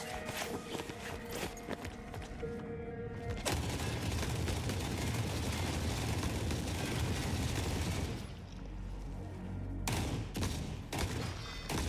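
Sustained automatic fire from the Rambo gun in The Forever Winter, a dense loud stream of shots for several seconds, bracketed by quieter game ambience and footsteps-like clatter.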